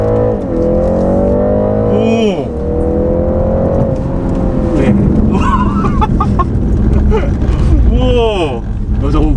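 A BMW 330e plug-in hybrid launching hard in extra boost mode, engine and electric motor rising in a steady whine and rumble under continuous close talk, with rising pitch sweeps as it gears up.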